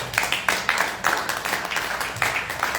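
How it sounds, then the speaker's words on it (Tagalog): A church congregation applauds together, producing dense steady clapping with a rhythmic pulse that continues at an even, moderate level from start to finish. "Palakpak po natin ang ating Panginoon."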